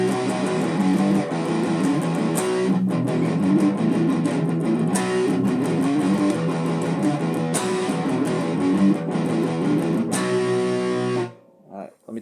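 Heavily distorted electric guitar plays the verse riff of a song, a dense, steady and loud chugging line that runs for about eleven seconds before stopping abruptly.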